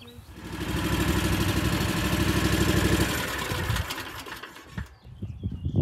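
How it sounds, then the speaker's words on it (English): The engine of a riding lawn mower runs at a steady buzzing idle close by for several seconds, then cuts off, leaving a few faint knocks and rustles. "Rachel's getting her mower off right now"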